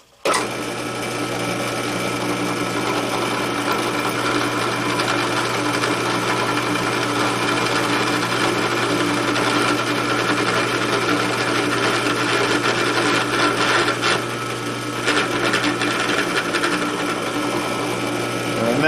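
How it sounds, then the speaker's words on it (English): Power drill boring holes through a knife handle for the pins, a steady sustained whine running nearly unbroken and fairly loud and close throughout, with slight wavering near the end. "Okay, we're ready to drill the other side now."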